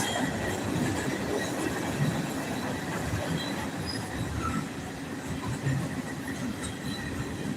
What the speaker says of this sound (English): I see the train going. It's headed down the track.